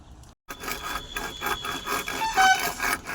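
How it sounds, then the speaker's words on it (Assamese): A large stalk of bamboo is cut outdoors at a construction site, giving steady rough rasping and scraping strokes, loud and close, with a brief pause near the start. "বাঁহ কাটি আছে মাইনা।"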